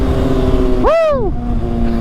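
A single car with a quiet muffler sweeps past close by, its engine tone rising and then falling in a quick Doppler swoosh lasting under a second, over steady road noise from another vehicle.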